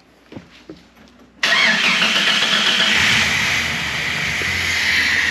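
A car engine with a suspected lifter problem and poor compression cranks after a few faint taps, catches, and settles into a loud, steady run close by, with no talk.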